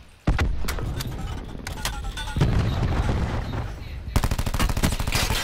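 Rapid bursts of Call of Duty: Black Ops 4 Blackout gunfire crack and rattle in quick succession, some single shots and some strings, with a dense volley near the end.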